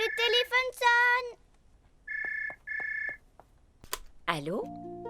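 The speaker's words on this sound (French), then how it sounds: "le téléphone sonne" A telephone rings twice in a French children's cartoon, two evenly spaced electronic trills following a child's speech, then a voice speaks again with a short click between.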